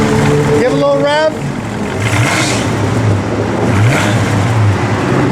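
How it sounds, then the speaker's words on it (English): A 1972 Plymouth Road Runner's 340 V8 idles steadily in park and gets a short rev, a low rumbling engine note close by with a voice over the opening seconds. "Give a little rev."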